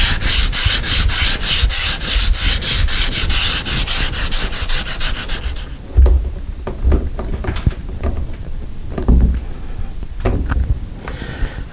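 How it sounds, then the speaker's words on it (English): Sandpaper is rubbed by hand along the planed edge of a wooden door that was sticking. Fast, even back-and-forth strokes come first, then slower, scattered scrapes and rubs, all close up and with no talk. "you can just take a piece of sandpaper and smooth it down before you hang it back up"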